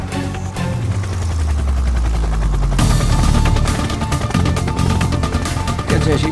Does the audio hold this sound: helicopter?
yes